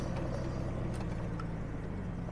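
A daily-driver car idles as it warms up outside by a barn, a steady low rumble with faint higher mechanical whine, continuous and close, no talking.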